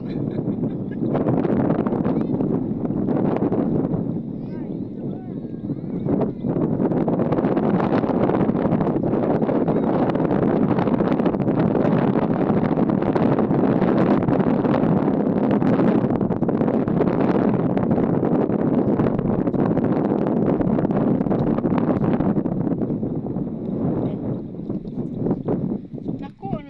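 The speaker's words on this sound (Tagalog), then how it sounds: "Lakas ng hangin." Strong wind roars continuously across the microphone on a beach at low tide in Negros, a loud buffeting rush that persists throughout, with people talking faintly beneath it.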